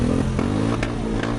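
A motorcycle in a village, started and running close by, a loud, rough engine rumble with clattering mechanical knocks and small surges in revs, with no talk over it.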